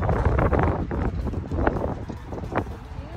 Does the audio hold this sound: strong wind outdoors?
yes